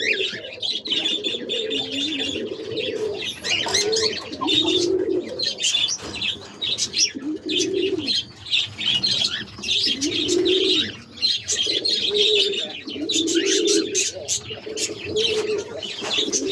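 A pigeon steals food beside pet cockatiels and coos repeatedly in low, throaty phrases. Sharp, high chirps and tweets from the cockatiels keep going throughout, with occasional wing flutters. A person speaks now and then in the background.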